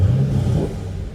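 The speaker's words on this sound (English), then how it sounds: "Nice rumble to that exhaust" A 2013 Chevrolet Camaro 2SS 1LE with a dual-mode exhaust idles with a deep, loud, close-up rumble that swells briefly, with no talking over it.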